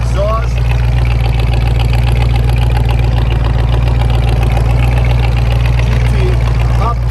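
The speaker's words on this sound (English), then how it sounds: "which is the dual exhaust." A 1966 Ford Mustang with dual exhaust trumpets idles with a steady low rumble close by, while a voice talks over it.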